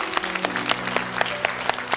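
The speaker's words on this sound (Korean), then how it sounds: "우리 하나님께 한번 영광의 박수 한번 돌리겠습니다" During a church service, the congregation applauds with crisp, rhythmic claps about every quarter second over soft sustained keyboard tones.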